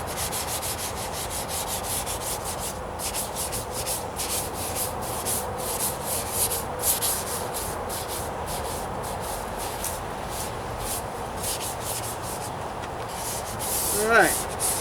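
Continuous close rubbing of 1000 grit sandpaper over the painted trunk lid of a 1998 Toyota Corolla, in quick back-and-forth strokes with a brief scrape near the end.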